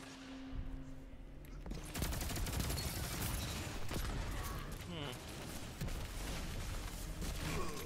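Rapid automatic fire from the Reckless Oracle gun in a video game, a dense sustained burst of loud shots running almost the whole time after a brief quieter opening.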